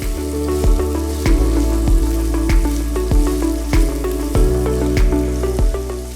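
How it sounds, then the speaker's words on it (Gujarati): Onions and tomatoes frying in a pan while being stirred, a steady close sizzle broken by regular scraping strokes of the spoon at an even rhythm, loud and with no voices. "થોડીક ડુંગળી અને ટમેટા એકદમ આમ એમ લાગે કે ચડી ગયા છે, ત્યાં સુધી આપણે એને હલાવી રાખશું"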